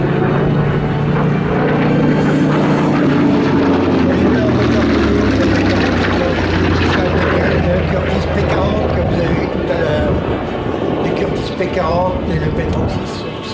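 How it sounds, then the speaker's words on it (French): A vintage Curtiss P-36 H-75 propeller fighter drones overhead at the La Ferté-Alais airshow, its loud, steady engine roar shifting in pitch as it passes, with a commentator's voice over it. "Cet avion, le P-36 Curtiss H-75,"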